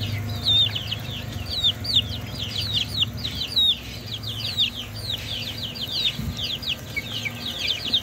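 Farm chickens and young broiler chicks at a small country property, a busy stream of high peeping from the chicks over low, steady clucking, close by, with no speech.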